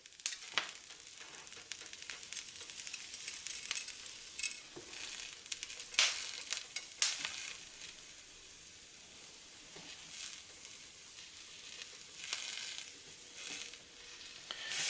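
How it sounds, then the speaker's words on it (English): Garlic scapes frying in a pan, a soft continuous sizzle with occasional louder stirring scrapes and crackles, close and fairly faint, without speech. "you kind of want to make sure you're going to be stirring them so they're not going to just burn on one side"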